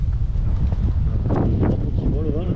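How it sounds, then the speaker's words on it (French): Strong wind buffeting the microphone outdoors, with cows nearby while spectators wait for racers to pass; steady low rumbling gusts throughout, with a person talking over it. "Beaucoup de vent."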